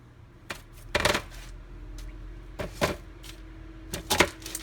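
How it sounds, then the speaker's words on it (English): Baked acorn squash halves are turned over on a pan, making a few scattered clinks and knocks at irregular moments over a few seconds, with quiet room tone between them. "I'm gonna turn these over."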